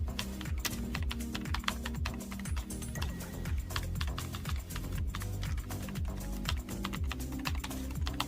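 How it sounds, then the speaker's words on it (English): Rapid, dense keystrokes on the keyboard of a 1994 IBM ThinkPad 360 laptop, clicking steadily and close up for several seconds over a sustained low tonal layer. "Testing the keys."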